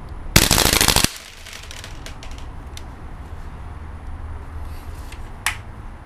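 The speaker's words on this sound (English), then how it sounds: "Rate of fire test, WE-MSK." A WE MSK ACR gas blowback airsoft rifle fires one loud, rapid full-auto burst lasting under a second, followed by near-silence with a faint low room hum and a couple of small clicks.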